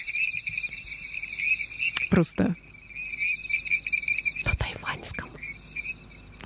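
Olive frog calls recorded in Taiwan, a steady high trilling chorus with insect-like pulses running through, interrupted by a couple of brief louder handling or rustling bursts, with a faint whispered voice.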